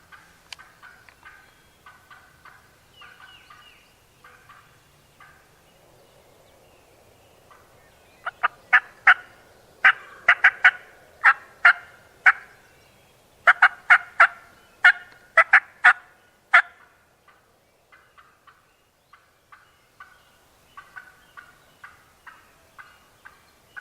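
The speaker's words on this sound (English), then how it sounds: "the gobbler keeps gobbling" A wild spring gobbler in big Ohio woods gobbles repeatedly from a distance down in a valley, bursts of rattling gobbles in quick series, with quieter calls and woodland ambience between them.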